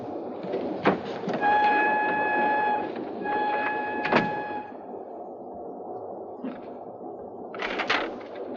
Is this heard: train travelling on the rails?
yes